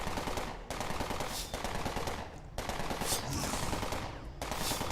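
Automatic gunfire from a weapon in the video game Entropia Universe rattles in long, rapid bursts, broken by a few brief pauses, loud and continuous throughout.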